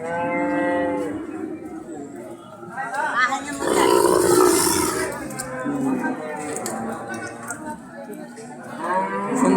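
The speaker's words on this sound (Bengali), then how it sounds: "এটা একটা ফিজিয়ান জাতের গরু, অনেক বড় গরু।" Large Friesian cattle low loudly at a cattle market, with several drawn-out moos rising and falling over steady crowd chatter and voices nearby.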